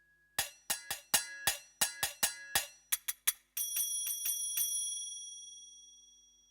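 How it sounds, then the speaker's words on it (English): A run of bright metallic strikes on finger cymbals in quick succession, about a dozen sharp tings, ending with a few notes left to ring out and fade. "You can see here we have finger cymbals,"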